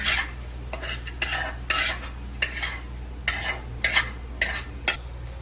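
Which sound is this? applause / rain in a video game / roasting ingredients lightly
roasting ingredients lightly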